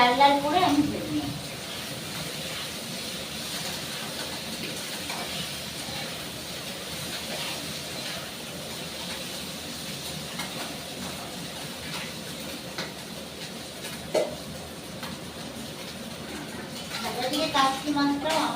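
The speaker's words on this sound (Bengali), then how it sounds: "তা কাঁচকলা আলুটাকে বেশ লাল লাল করে আমি ভেজে নিই।" Green banana and potato pieces frying in a pan with turmeric and salt, a steady soft sizzle and hiss running throughout, with a few light utensil clinks and a voice speaking at the start and end.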